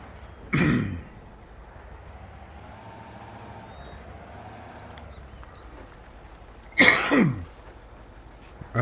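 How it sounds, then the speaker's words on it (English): A man coughs and clears his throat twice, a short harsh burst near the start and a longer rasping one about six seconds later, close to the mic with quiet background hum between them. "Sorry, still got a little bit of a lingering cough."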